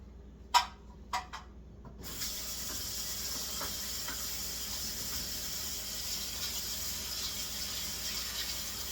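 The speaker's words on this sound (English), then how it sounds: "I just did the dishes so the water's still relatively warm" Warm water runs from a kitchen tap into a sink with a steady hissing flow that starts after a few brief clinks and knocks, then continues evenly and close by.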